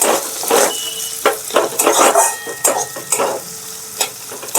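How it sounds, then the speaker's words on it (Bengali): Chopped onion frying in a pan for chicken patties, a steady sizzle broken by repeated spatula scrapes and stirs, close and fairly loud with no talking. "পেঁয়াজ কুচিটাকে একটু ভাজতে হবে ভালো করে"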